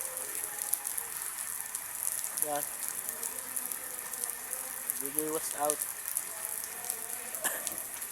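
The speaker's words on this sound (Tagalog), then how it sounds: "Aray, bagos nag-ulan na" Steady hiss of rain falling throughout, with occasional voices speaking briefly over it.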